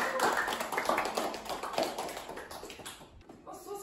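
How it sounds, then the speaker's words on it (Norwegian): An audience at a culture evening claps in a dense burst of applause that gradually thins and fades toward the end. "Det gir vi en applaus for dere!"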